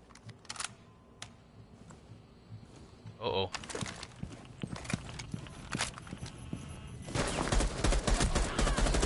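Gunfire crackles through a video game shootout, with a shotgun fight among the weapons. Sharp shots and bursts come in irregular clusters, growing denser and louder toward the end, while a voice talks over much of the action.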